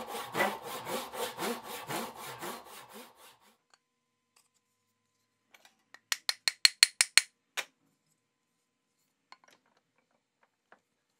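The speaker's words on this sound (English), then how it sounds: "I have to file a slight taper into the eye for the handle to hold onto when I pound in the wedge" A file rasping in short rhythmic back-and-forth strokes across the eye of a bronze axe head, a loud run of about a dozen strokes, a pause, then a quicker, sharper burst of strokes.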